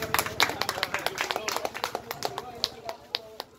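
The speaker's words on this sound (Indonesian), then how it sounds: "Tepuk tangan dulu." A small group of people clap briskly during a police traffic safety talk, a quick run of distinct, close handclaps at an uneven rhythm that slowly tapers off, with some speech underneath.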